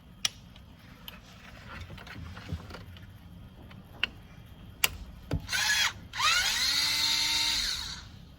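A power driver backs out Torx 25 screws from an air suspension valve block bracket on a Mercedes S-Class W-series, with scattered clicks and taps, then a short high whine and a longer buzzing run near the end.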